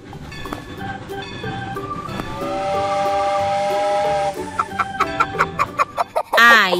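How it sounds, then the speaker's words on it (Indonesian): A chicken clucks in a series of short, sharp, rhythmic calls near the end, following a long steady whistle-like tone, clear and close with no speech. "Ayam."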